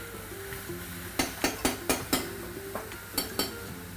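Tomatoes tipped into a pan of ratatouille and stirred, giving a run of sharp utensil clacks and scrapes against the pan over a low, steady background.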